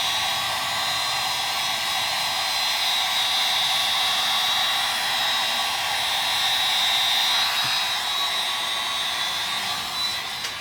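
Heat gun blowing steadily over a skull snowglobe to dry it, a continuous loud airy whir with a high whine, close and unbroken for the whole stretch.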